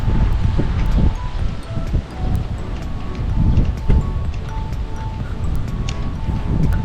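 Steady beach wind buffets the microphone in gusty rumbles, with faint rustling in the background and no one speaking.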